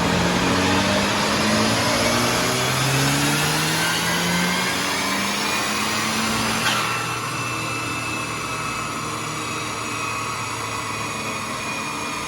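Tuned car engine running at full boost on dyno rollers, a loud sustained drone with rising harmonic tones as revs climb, then a drop to a steadier high pitch partway through.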